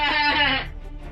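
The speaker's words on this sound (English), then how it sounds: "I think it was the sound of a goat." A goat bleating once, a loud close wavering cry lasting about half a second before it cuts off, leaving a quiet low hum afterward.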